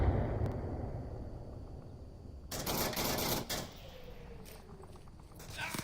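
Gunfire crackles through a round of Onward, the VR military shooter, with a thrown grenade landing short; a low rumble gives way to a dense burst of shots mid-clip, then scattered rounds and a final loud burst.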